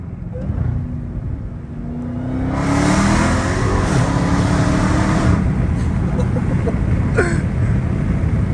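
Dodge Hellcat Redeye V8 muscle car revving hard, a loud sustained engine roar that swells after a few seconds and holds steady to the end.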